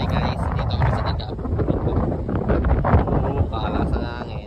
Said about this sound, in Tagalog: Pakalas ang hangin.